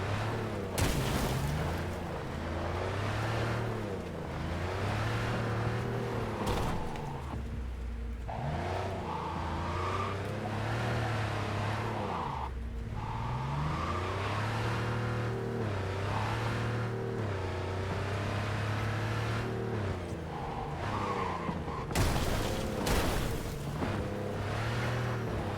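A car is driven in Cyberpunk 2077, its engine humming steadily and rising and falling in pitch as it accelerates and revs. The sound stays fairly loud throughout, with a few sharp thumps near the start and end.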